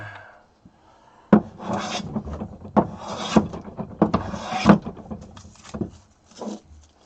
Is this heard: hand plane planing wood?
yes